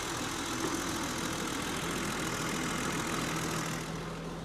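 A BMW M30 straight-six engine ticks over at idle in a barn-find BMW M car, a steady, smooth, even hum close by with no speech over it.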